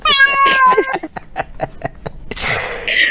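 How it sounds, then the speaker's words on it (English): Recorded cat sound effects: a clear, close meow opens, followed by a run of short clicks and chirps from several different cats, ending in a harsh, hissy burst. "We have a litter of cat sounds."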